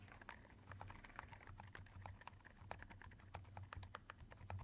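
Typing on an Epomaker RT100 budget mechanical keyboard with silent switches: rapid, irregular soft clacks in a continuous run, close but fairly quiet, with a low hum beneath and no speech.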